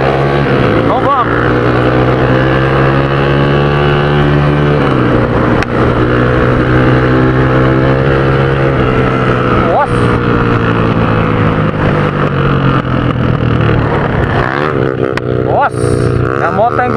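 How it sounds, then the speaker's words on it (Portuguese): A motorcycle engine drones loudly and steadily, its pitch rising and falling as it revs while riding through mud and dirt, with voices talking over it. "Nossa, a moto tá engolindo o quê? Barro, terra, de tudo."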